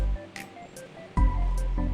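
Tap water poured into diluted liquid wastewater from jumputan fabric dyeing, a steady splashing rush that starts loud after a quieter stretch and continues to the end.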